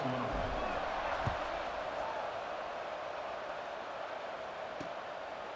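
A stadium crowd in the EA Sports College Football video game keeps up a steady, wide, far-off roar under a play-by-play commentator, with a few faint thumps.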